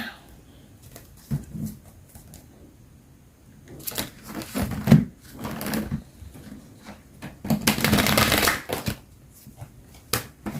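Tarot cards are shuffled by hand in irregular bursts of riffling and soft slapping, close and fairly quiet, with brief pauses between handfuls and a longer, denser shuffle near the end.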